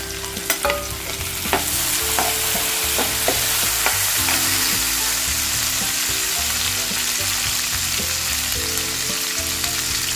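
Finely chopped tomato drops into hot oil with asafoetida and erupts into a loud, continuous sizzle that holds steady, with a few scraping stirs near the start.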